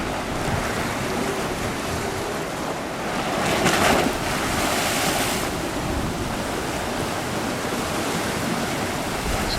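Big ocean waves break on a rocky shore at Son Caliu, Palmanova, in February. There is a continuous roaring wash of surf with one louder crash in the middle, mixed with wind noise on the microphone.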